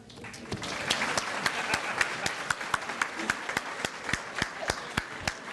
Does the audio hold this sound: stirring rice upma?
no